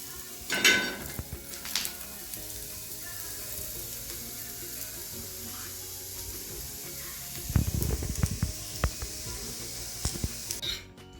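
Whole spices and onion roasting in a hot pan for a non-veg khada masala: a close, steady sizzle, with a spatula stirring and scraping at the start and again near the end.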